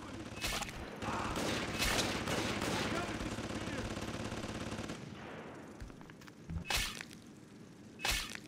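An automated turret in BioShock 2 fires sustained rapid bursts mixed with shattering and breaking impacts, loud for about five seconds, then fading into scattered later shots and knocks.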